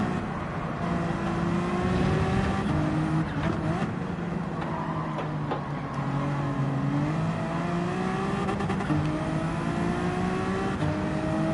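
A race car engine in Gran Turismo 7 drones loudly and continuously, climbing through revs and buzzing against the limiter with short dips at gear changes, steady and close with no voices.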